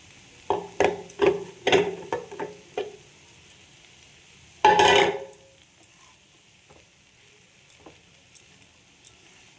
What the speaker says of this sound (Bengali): এবার সব এইভাবে মিশিয়ে নেব।